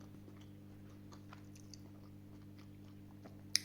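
Someone eats chilled beetroot in faint, scattered moist bites and chews against a steady low hum, with a sharper crunch or click near the end.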